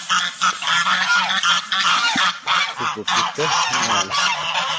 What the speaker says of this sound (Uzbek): Endi navbat g'ozlarimizga. G'ozlarimiz idishlarini bo'shatib qo'yishibdi.